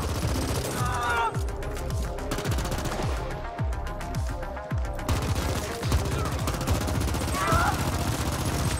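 Rapid gunfire in The Ascent video game, dense bursts of automatic shots and repeated impacts crackling continuously at close range, with energetic effects layered over a constant rumble.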